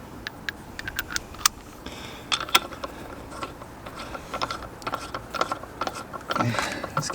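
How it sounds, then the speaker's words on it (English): An impact gun tightens wheel nuts on a Renault Megane RS 250 after a stud conversion, giving short sharp rattling bursts and clicks, faint and close, with gaps between them. "I just literally cracked it up with the gun"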